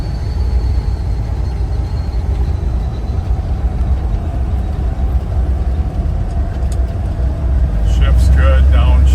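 A 1977 Ford F150 short box 4-wheel-drive pickup drives with a loud, steady engine drone and road rumble from inside the cab, the engine note rising near the end as it shifts gears. Someone talks over it.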